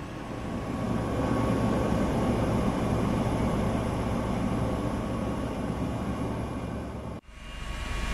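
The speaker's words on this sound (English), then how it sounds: "as we clamber on to the chopper" A helicopter runs close by in flight, a steady loud drone with a broad rushing roar and a low hum, cutting off abruptly near the end before a softer rumble resumes.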